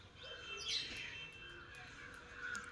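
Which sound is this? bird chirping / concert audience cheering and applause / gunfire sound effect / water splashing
bird chirping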